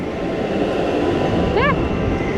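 The Icebreaker roller coaster train at SeaWorld Orlando, an 18-passenger train, rumbles along its track with a steady, loud rolling roar and a brief rising screech of wheels near the end.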